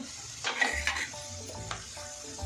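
Roasted gram and garlic frying in oil in a pan, a soft crackling sizzle under a few quick stirring scrapes and light utensil clinks, fading to a quieter simmer.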